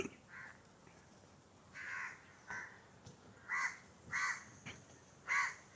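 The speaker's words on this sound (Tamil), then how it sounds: "நிறைய காக்கா வேற நிற்கிது பாருங்க" Crows cawing at Zoo Negara in Malaysia, a handful of short, fairly faint caws spaced irregularly against quiet outdoor background, with no talk.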